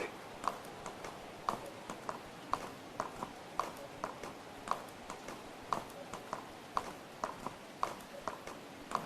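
Horse hooves clip-clop at a steady walking rhythm in a video game, a regular series of sharp, fairly close clicks repeating alone over a faint background hum.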